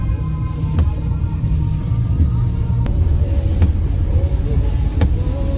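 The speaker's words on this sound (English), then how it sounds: "Free car wash, guys!" A van being washed in an automatic car wash on a rainy day in the UK: steady loud rumbling motor and spraying water noise throughout, with occasional sharp clicks and knocks.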